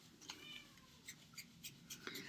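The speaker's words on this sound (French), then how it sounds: "un petit chat qui crie fort" A small cat meowing and crying out in short, sharp calls, repeated several times over a steady noisy background, fairly faint overall.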